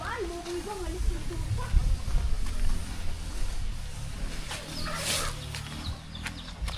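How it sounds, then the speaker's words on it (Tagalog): Chickens cluck in an outdoor farmyard, with people talking nearby and general background bustle throughout. "may manok pala dun"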